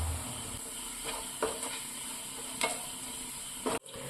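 Golden onions with turmeric sizzle softly in a pan while being stirred, with a few light utensil scrapes and taps against the pan over a quiet, continuous frying hiss.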